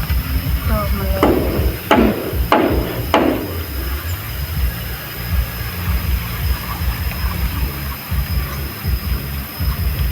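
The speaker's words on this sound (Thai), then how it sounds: "ตอกมาเลย" Four sharp hammer blows ring out in quick succession near the start, then give way to a steady rumbling background with no further strikes.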